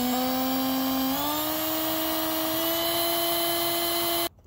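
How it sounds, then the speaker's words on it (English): A power drill bores a starter hole in the door of a Zeiss camera, a steady high whine holding a single pitch that rises slightly partway through, then cuts off abruptly near the end. "I think I'm just gonna drill a starter hole here, like so"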